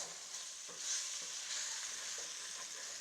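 Food stirred in a new non-stick pot, a steady soft hiss of frying with faint scraping strokes, close and fairly quiet, with no voices.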